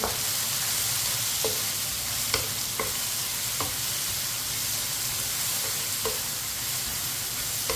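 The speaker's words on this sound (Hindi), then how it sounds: "इसे भी चम्मच चलाते हुए पकाना है प्याज को भी" Chopped onion sizzles steadily in a pan while a spoon stirs it, with occasional sharp scrapes and clicks against the metal over a continuous dense frying hiss, close and fairly loud, with no talking.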